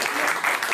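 An audience applauding after an award is mentioned at a talk, a dense burst of clapping that fills the whole short moment at a steady, moderately loud level.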